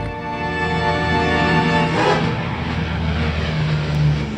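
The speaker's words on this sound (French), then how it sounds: "Doolittle devient le premier pilote ayant à faire décoller un bombardier de taille moyenne à partir du pont d'un porte-avions" A B-25 medium bomber's piston engines roar steadily as it takes off from an aircraft carrier deck, a loud, sustained propeller drone that swells and shifts in pitch midway, with no voices.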